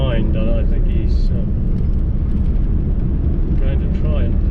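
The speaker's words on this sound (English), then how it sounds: "There's a car coming up behind" A car comes up from behind to pass on a dusty road in the Australian outback, a loud, steady rumble of engine and road noise with a voice talking over it.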